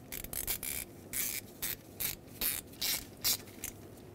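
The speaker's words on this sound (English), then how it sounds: "Now get your T25 Torx bit and let's tighten it up." A ratchet wrench with a T25 Torx bit tightens a small bolt on a 2008–2010 Ford F-250 6.4L diesel oil filter housing return tube, giving a series of short, close ratcheting bursts with brief pauses between strokes.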